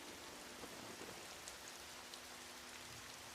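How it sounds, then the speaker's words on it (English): Steady, hissing rain pours in an anime episode, a dense even wash of drops from start to finish with no voices over it. "Is Elfie just flexing her rain magic right now while everyone else is glazing her"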